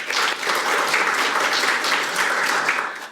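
Sustained applause from an audience of guests at a National Assembly forum on training national strategic maritime officers, a dense, steady wash of many hands clapping at even loudness for about three seconds, no voices over it.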